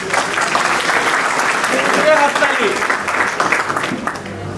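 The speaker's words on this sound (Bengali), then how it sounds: "ওনার জন্য একটা জোরে হাততালি" Audience applause at a session at a polytechnic institute, a sustained burst of clapping from a room full of people, with voices mixed in underneath.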